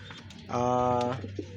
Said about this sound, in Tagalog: naglulugon yung mga kalapati natin.